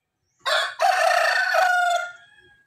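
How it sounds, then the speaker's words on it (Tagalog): A rooster crows once nearby, a loud, clear cock-a-doodle-doo with a short opening note followed by a long drawn-out call that tapers off, heard alone against a quiet background. "Yung mga manok diri sa amo, no?"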